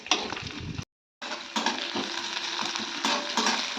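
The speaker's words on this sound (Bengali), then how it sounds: "এদিকে পেঁয়াজটা একটু ভেজে নিচ্ছি" Onions sizzle steadily in a hot pan, with scraping stirs and a brief cut to silence early on.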